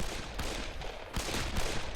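Rifle gunfire from the video game Darkest of Days, a dense run of overlapping shots and blasts that fills the whole two seconds at steady, moderate loudness with no talking.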